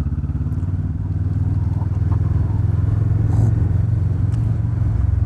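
A Kawasaki Vulcan S motorcycle rides through streets and roads, its engine giving a steady, loud, close droning rumble throughout with slight clatter and passing traffic, and no talk over it.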